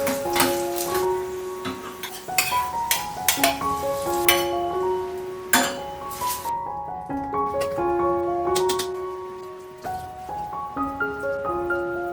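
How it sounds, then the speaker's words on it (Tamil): Cashews and raisins fry in ghee for sakkarai pongal, a steady close sizzle broken by repeated sharp clinks and scrapes of a utensil against the pan, with faint melodic tones underneath. "சக்கரை பொங்கலுக்கு தேவையான முந்திரி, திராட்சை நெய்யில் வறுத்து போட்டுக்கிறேன்"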